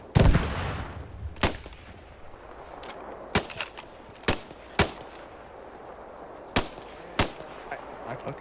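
Scattered gunfire in Post Scriptum, a World War II shooter, cracks out as isolated sharp shots and short bursts at irregular intervals, moderately distant over quiet battlefield ambience, opening with a louder blast.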